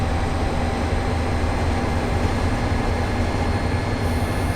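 Commuter train on the Peninsula Corridor in Train Sim World 2020, a loud continuous rumble of wheels and motors rolling steadily as it slows, with a faint high whine above.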